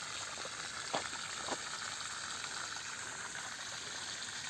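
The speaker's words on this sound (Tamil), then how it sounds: "தண்ணி ஓடிட்டுருக்குது பாருங்கள்" Water flows steadily into a tank on a coconut farm, a constant broadband rush with a couple of brief louder splashes near the start, fairly close and alone without talk.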